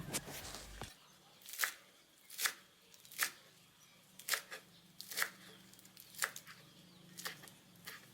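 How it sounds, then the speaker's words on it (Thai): A knife chopping spring onions and Chinese celery leaves on a cutting board, about a dozen crisp, separate cuts in an irregular rhythm, close and clear with no talking. "หอมหัวใหญ่เสร็จแล้วเราก็หั่นต้นหอมแล้วก็ใบขึ้น ช่าย ต่อเลยค่ะ"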